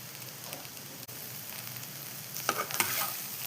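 Cooked rice being stirred into a carrot mixture in a pan, giving a soft steady sizzle with light scraping that grows a little louder toward the end, close and without talk.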